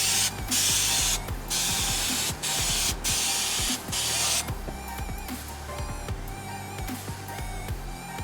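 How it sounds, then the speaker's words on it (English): A can of 3M Super 90 spray adhesive hisses outdoors in several loud bursts of about a second each, separated by short pauses, followed by quieter clicking and rattling. "let's just head outside and spray some adhesive."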